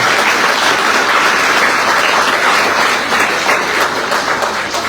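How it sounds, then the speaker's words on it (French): Loud, dense applause from an audience at a cycling tour presentation in Guadeloupe, a continuous wash of many hands clapping at close range with no voices. "On les applaudit très très fort, s'il vous plaît"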